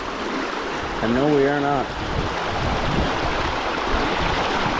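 Water rushes steadily at a stream crossing, a broad continuous roar from beginning to end, with a voice speaking briefly over it near the start.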